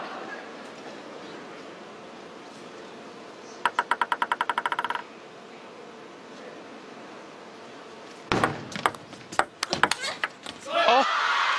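A women's table tennis world team championship final match, Hirano Miu against Wang Yidi: a quick, even run of sharp ball pings in mid-clip, then a scattered cluster of louder knocks and clicks later, under constant arena crowd murmur and commentary.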